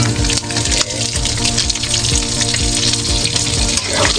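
Ginger and bell pepper sizzle and fry in a pan while being stirred, a loud continuous crackle with scraping stir strokes throughout, no voices.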